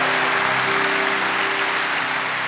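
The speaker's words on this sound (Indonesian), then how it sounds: "Berikan tepuk tangan yang meriah untuk Tuhan." A church congregation applauds at a rooftop building inauguration in Surabaya, a dense, steady wash of clapping that stays loud throughout.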